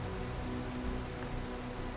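Steady rain falls in a dense, even hiss on surfaces, constant and fairly loud with no voices.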